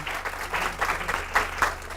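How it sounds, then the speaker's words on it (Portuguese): An audience at a school debate on secondary education applauds the debating teachers, a brief, even wash of many hands clapping at moderate loudness with no voices. "Uma salva de palmas para os professores que debateram"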